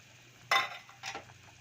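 Two brief bursts of bubbling and hissing from a pot of sardines and miswa noodles boiling, separated by a short pause, fairly quiet against a still background.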